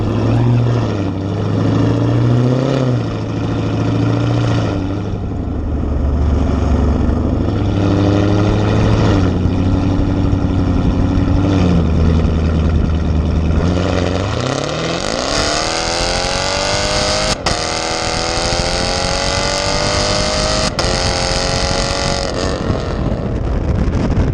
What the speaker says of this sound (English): Here's gonna be some exhaust clips coming out for you right now.